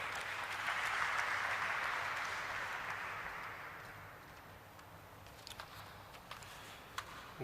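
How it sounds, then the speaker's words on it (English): Audience applause at a company stock listing ceremony, a dense burst of clapping that swells in the first seconds, then thins out to a few scattered claps. "Can we have a round of applause for him?"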